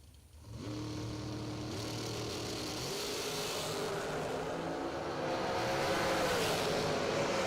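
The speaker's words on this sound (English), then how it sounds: "Shorty Dragster versus Shorty Dragster." Shorty dragsters launching down a drag strip, heard from a distance as a continuous engine roar that climbs steadily in pitch and loudness as the cars accelerate away.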